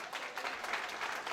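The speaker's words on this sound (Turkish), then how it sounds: "Sevgili Arif Kurtum'a da bir yürekten alkış istiyorum." Steady applause from an audience at a Turkish village cultural association gathering in Erzincan, dense clapping filling the whole moment at even loudness with no talk over it.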